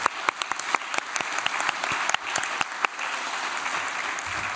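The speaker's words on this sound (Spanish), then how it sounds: "bueno, un aplauso." Seated audience at a theatre seminar claps for the presenters, a moderate patter of many hands with a few louder, distinct claps standing out near the front.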